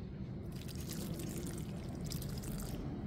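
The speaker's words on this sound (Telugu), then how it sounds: "ఇప్పుడు మనం వీటికి వాటర్ పోద్దాము" Water poured onto potted marjoram (maruvam) cuttings makes a soft steady splashing and trickling, close and continuous for a few seconds with no voices.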